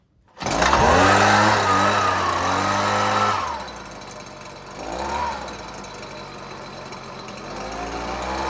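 A Husqvarna 125BV handheld leaf blower's small two-stroke engine revs loud and close for about three seconds, then drops to a lower, rougher sputter with one brief surge before settling into a faltering idle.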